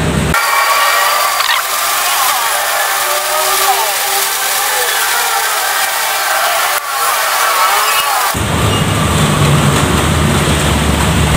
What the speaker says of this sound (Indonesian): Maaf hujan jadi berisik ya teman-teman.